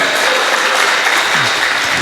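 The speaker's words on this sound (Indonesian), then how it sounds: "Tepuk tangan untuk Kebumen." A crowd applauds for the Kebumen group, a loud, steady wash of many hands clapping continuously, with a faint voice surfacing briefly near the end.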